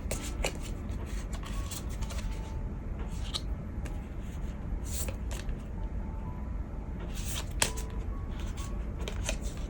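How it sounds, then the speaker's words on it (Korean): Tarot cards are shuffled and slid out onto a surface in a steady, close rustle with sharper flicks and snaps scattered throughout, and no talking over them. "이제 상대방 분들 카드 열어보겠습니다"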